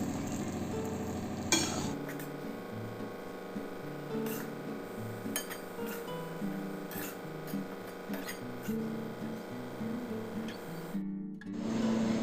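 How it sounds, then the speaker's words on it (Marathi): Semolina being stirred and roasted in ghee in a pan over a low flame, with a steady soft scraping and gentle sizzle throughout, occasional light clinks of the spoon against the pan, and a brief pause near the end. "यामध्ये थोडं थोडं तूप घालून रवा छान कमी गॅस फ्लेमवर भाजून घ्यायचा आहे"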